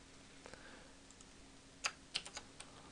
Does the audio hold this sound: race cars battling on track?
no